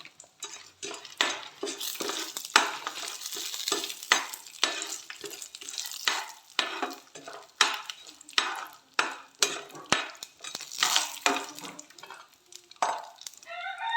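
Peanuts fried and stirred in a pan alongside copra, with a steady sizzle under repeated scraping and clinking strokes of a spoon against the pan, close and continuous throughout with no talking.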